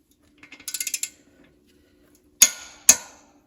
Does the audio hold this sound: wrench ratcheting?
yes